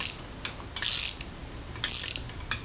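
A gun tap cuts threads into a hole lubricated with tapping fluid, producing two loud bursts of metallic rasping between soft clicks, heard close and without voices.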